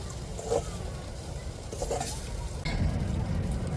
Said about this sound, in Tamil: பாருங்க இப்படியே கிண்டிக்கிட்டே தாங்க இருக்கணும்